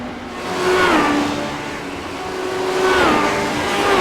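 A race car modeled on a 1934 Ford Coupe roars steadily in a racing video game, its engine pitch rising and falling as it accelerates and shifts, loud and continuous with no talking.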